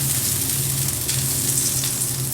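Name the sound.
bread slices frying in butter on griddle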